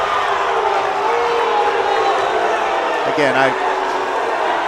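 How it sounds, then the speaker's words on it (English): A basketball crowd at a boys' high school section semifinal cheers in a broad, continuous roar beneath a close voice talking, with a brief sharp whistle-like tone near the end. "I understand they're cheering for their team"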